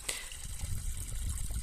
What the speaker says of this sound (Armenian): այստեղ գեղեցիկ աղբյուր կա